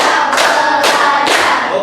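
A classroom of students claps hands in time with a teacher's count, loud close bursts of clapping arriving in three quick groups.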